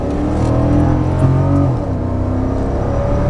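A 2010 Porsche Panamera 4S with an AWD V8 and active exhaust in Sport Plus mode accelerates hard, its engine note rising in pitch and roaring close and loud, then shifting and settling into a steady drone.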